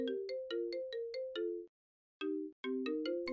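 A remix of the iPhone ringtone plays as music in a video game level, its bright marimba-like melody of repeated plucked notes running in two phrases split by a short silence, with no talk over it.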